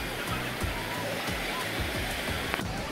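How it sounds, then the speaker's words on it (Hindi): Sea waves at Thithal beach produce a continuous broad rushing wash of surf, steady and fairly loud, with no distinct breaks. "पानी की देखो आवाज़ भी कितनी मस्त है समंदर की पानी की आवाज़"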